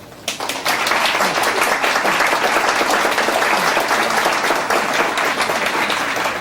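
A 1980 Iowa debate audience breaks into steady, loud applause right after a speaker finishes, the clapping full and continuous from start to end.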